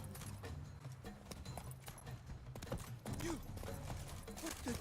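Horse hooves clip-clop during mounted combat in The Witcher 3: Wild Hunt on PS5, a fairly quiet galloping rhythm mixed with other game noise and occasional sharp hits.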